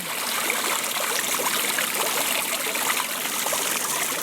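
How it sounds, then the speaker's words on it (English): Fountain water splashing over a Samsung Gear 2 smartwatch outdoors, a constant bright trickling and babbling stream with no pauses, moderately close and alone. "behind me, we have a fountain"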